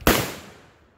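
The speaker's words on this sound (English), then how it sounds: "a little bit of gunfire in the background" A single sharp gunshot at a shooting range, close and loud, with its report decaying over about a second and no talk.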